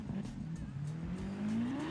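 A Lamborghini Aventador SV in the Forza Horizon racing game revs its engine for a launch, a steady droning tone that climbs gradually in pitch, moderately loud with no talking over it.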